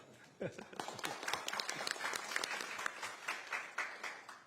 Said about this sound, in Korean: 박수를 한번 쳐드리고 싶은데